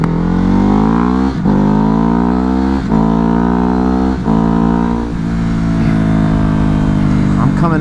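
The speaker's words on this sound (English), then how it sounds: "I'm coming at you here live on the Hypermotard, getting a little bit of wind therapy in today" Ducati Hypermotard motorcycle engine heard while riding, a loud close-up rasping drone with several sharp rev dips and shifts, steady wind noise, and a voice talking over it.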